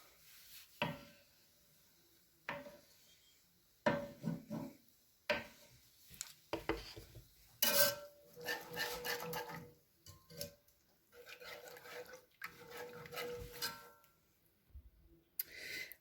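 Whisk knocking and scraping in a pan as cream cheese is worked into cream for a keto shrimp Alfredo sauce, in irregular bursts of close, clattering taps and rubs with short pauses between.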